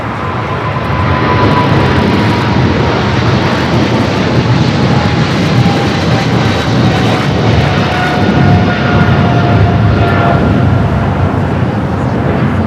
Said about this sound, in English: We also have the China Airlines Cargo 777 freighter now rolling down the 25 left.